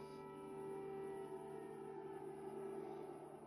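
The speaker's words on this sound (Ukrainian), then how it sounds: "І щойно увімкнулася повітряна тривога." An air raid siren in Ukraine during a power outage sounds as a faint, distant, steady wailing tone that holds through the whole stretch, with no voices over it.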